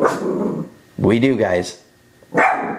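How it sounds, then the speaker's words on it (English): A dog barks in the background, with short barks set between bursts of nearby male speech. "that's my dog in the background"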